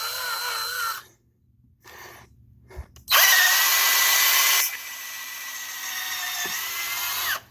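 A power drill bores into very wet wood while an engine lift bar is being built, giving two buzzing bursts at close range: a short one near the start and a long, loud, steady run through the second half.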